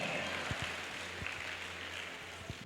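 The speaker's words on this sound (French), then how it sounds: "On applaudit très fort pour elle" An audience at a talent show elimination round applauds a professional dancer, a soft, distant spread of clapping with a few low thumps standing out, no voices heard.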